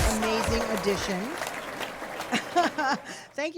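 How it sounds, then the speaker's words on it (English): Studio audience applause rises beneath a host speaking for a live talk show, a soft continuous clatter of clapping that fades as the talking continues. "I like all that applause."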